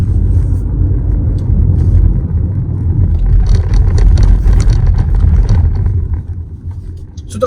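Steady engine and road rumble from inside a 2023 Škoda Slavia 1.0 TSI taking a turn at 60, loud and continuous with a slight swell in the middle, no talking.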